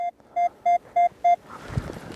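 Five short, evenly spaced electronic beeps from a metal detector catching a target in a field, each clear and sustained, followed by soft rustling and a faint thump.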